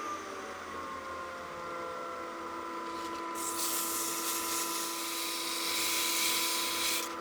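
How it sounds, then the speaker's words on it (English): A continuous whirring hum of a spinning lathe turning a wooden gnome Christmas ornament, joined by a brighter scratchy hiss of sandpaper on the wood partway through. "I want to get my sandpaper and sand the body of this"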